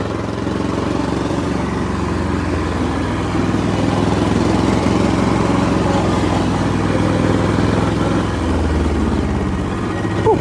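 A Fiat 221 four-wheel-drive orchard and vineyard tractor is revved hard in fifth gear, its engine a loud, steady drone that holds without a break.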